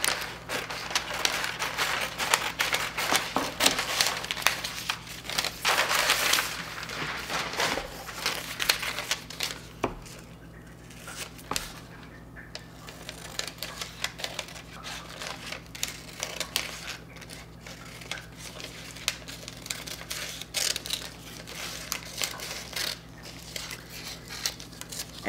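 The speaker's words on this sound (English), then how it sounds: "And then I'm going to cut this out." Scissors cut roughly around a quilt block shape in fabric, a close, steady run of crisp crunching snips and rustles that ease off briefly mid-way, with no talking.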